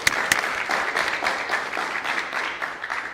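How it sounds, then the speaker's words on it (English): Audience applause at a 1 Million Cups startup event, a steady burst of clapping from a room of listeners lasting a few seconds with a couple of sharper claps near the start. "You want to give another round of applause for Ichel?"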